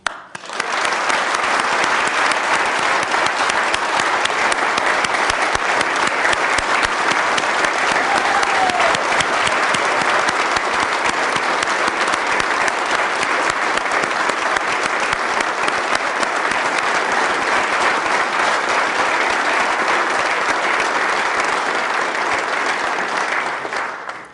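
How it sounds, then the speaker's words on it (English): Legislators and guests in a joint session for a State of the State address give armed forces members long, steady applause, a loud, even roar of clapping that fills the chamber and fades slightly at the end. "Please join me in applauding the fine men and women who are serving or who have served our nation's armed forces."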